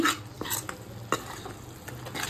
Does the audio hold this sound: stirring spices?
yes